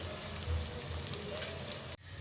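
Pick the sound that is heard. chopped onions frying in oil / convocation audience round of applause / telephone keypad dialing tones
chopped onions frying in oil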